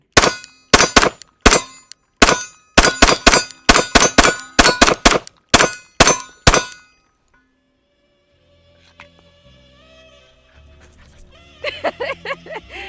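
Glock 45 Gen 6 handgun with compensator upgrades firing at steel targets outdoors, a rapid series of loud close shots each followed by a ringing clang, then quiet handling noises.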